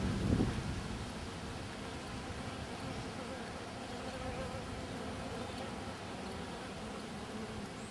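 A bee caught by a mantis buzzes continuously, close and fairly loud, with the steady drone holding for several seconds over light wind noise.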